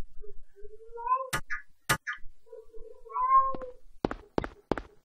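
A house cat meows twice in drawn-out, wavering cries, close and clear, with a few sharp thunks and knocks in between and at the end. No one speaks.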